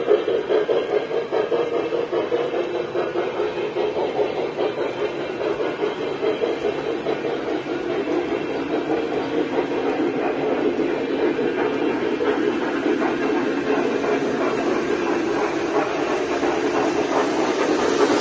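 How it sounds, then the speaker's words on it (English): Lionel model trains run continuously on their track, giving a steady close mechanical whir and rumble with a faint rhythmic clatter throughout. "Let's check out some trains running"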